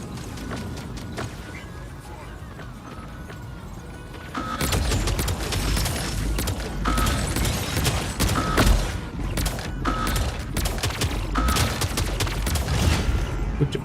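Suppressed mech gunfire from the video game Mech Arena: sustained rapid bursts of muffled shots that grow denser and louder partway through, continuing steadily under a busy game soundscape.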